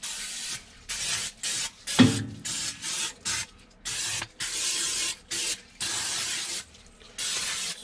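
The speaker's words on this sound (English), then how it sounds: "Spray it down good like that." Repeated bursts of aerosol cooking oil sprayed over an Oklahoma Joe's Bronco drum smoker during seasoning, a steady rhythm of roughly one-second hisses separated by short pauses, close and loud, with a single metallic clank partway through.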